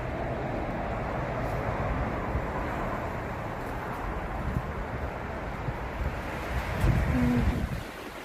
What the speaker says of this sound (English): This wind is crazy, and now there's snow.